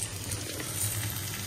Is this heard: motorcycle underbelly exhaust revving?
no